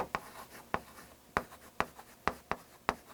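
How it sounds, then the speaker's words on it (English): Pen writing during an SAT practice-test lecture, a series of about seven sharp tapping strokes at an irregular rhythm, close and clear with no talking over them. "let's write"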